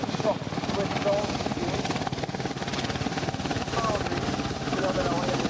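A Royal Navy Westland helicopter at an air show, its rotor beating in a steady rhythmic thrum with engine whine, heard under a commentator's announcement over the public address.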